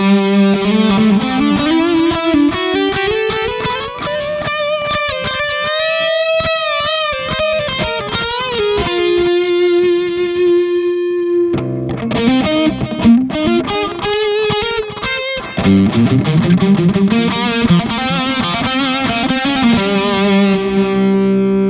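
A distorted electric guitar plays through an Audio Assault analog delay plugin, sustained notes and bends trailing repeating echoes, loud and continuous with a short break near twelve seconds.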